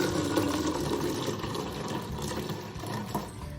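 Tea poured through a small colander into a big jar, a steady close splashing, trickling pour of liquid that runs continuously, with no talking.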